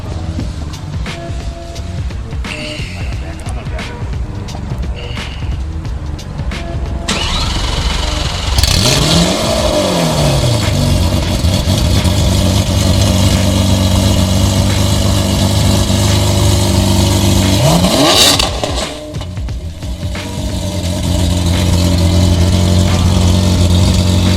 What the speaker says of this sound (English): All right, Reg, can you record the cold start for us?